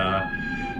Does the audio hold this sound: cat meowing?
no